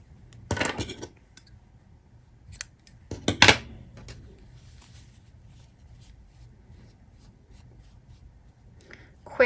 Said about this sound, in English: then we can just trim those tails away.